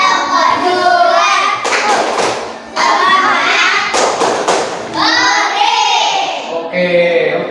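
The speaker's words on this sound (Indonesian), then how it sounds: "Udah Bapak kasih tepuk tangan dulu" Classroom applause from students clapping hands, several short bursts of lively clapping between a teacher's spoken remarks, loud and close.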